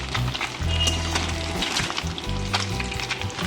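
Food fries in hot oil in a pan on a home stove as it turns yellow, giving a steady loud sizzle with light stirring clatter and a faint background hum. No talk is heard.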